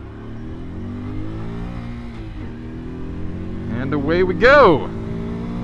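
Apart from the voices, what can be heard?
2023 Honda Super Cub C125 motorcycle accelerating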